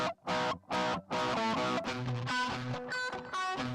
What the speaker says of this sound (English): I'm going to add like a fuzzy distortion to the guitars.